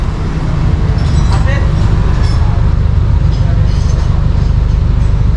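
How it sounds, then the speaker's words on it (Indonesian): A Suzuki New Jimny with a Greddy exhaust idles outside, giving a steady, low, loud rumble throughout while a person talks over it. "sekarang aku pengen kasih dengar suara idle dari luar nih"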